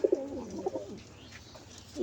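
Pigeon cooing in a loft of well-bred homing pigeons, a few soft, throaty coos close by in the first second, then quieter, with another coo starting at the end.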